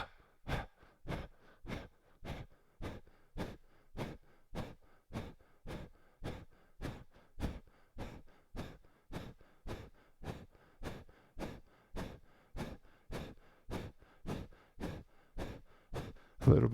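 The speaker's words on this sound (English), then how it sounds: "Inhale, full breath. Exhale." Deep, rapid rhythmic breathing during a breathing exercise, about thirty evenly spaced forceful breaths, each a short windy rush, close and quiet, with no speech and a louder breath at the very end.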